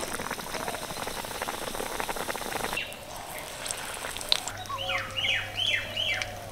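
A battered pumpkin leaf roll drops into hot oil, giving a dense, steady crackling sizzle that softens midway, with a few faint bird chirps and a low hum in the background.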